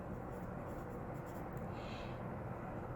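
A pen scratches across paper in a quiet room, a soft, continuous scraping close by.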